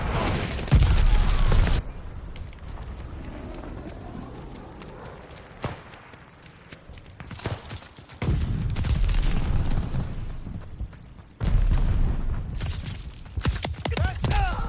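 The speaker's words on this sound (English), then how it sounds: "Enemy's got a glide bomb incoming" Glide bomb blasts and battlefield chaos in Call of Duty Vanguard multiplayer, with heavy booming bursts, gunfire and running footsteps in several loud surges separated by quieter stretches; a voice talks over parts of it.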